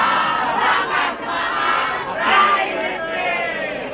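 A group shouting a rhythmic yel-yel chant together, loud and close, the massed voices rising and falling in bursts over about four seconds.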